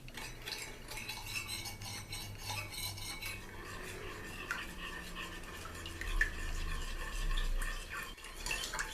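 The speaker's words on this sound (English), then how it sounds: "And we're just going to stir this in really well." Spoon stirring a homemade teriyaki sauce mixture with cornstarch and water in a bowl, a steady close scraping and clinking of metal against the dish that continues for several seconds with no talking.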